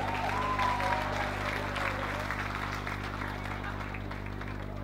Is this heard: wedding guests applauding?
yes